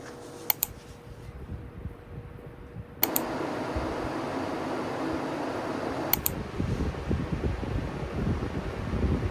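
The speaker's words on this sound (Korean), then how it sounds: "이번에도 마찬가지로 일반적인 선풍기와 소음 비교를 해봤는데요" A bladeless fan and a regular electric fan running one after the other, a steady whooshing airflow hum that steps louder in stages as each speed or fan switches on, marked by short clicks.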